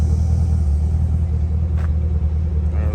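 A 2015 Chevrolet Camaro SS engine idles with a deep, steady, loud rumble heard up close, continuous throughout with no talking.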